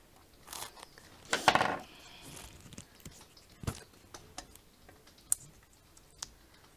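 A paper card sentiment trimmed down, with a brief scraping cut followed by scattered small ticks and taps of paper handling, quiet and close, no talk.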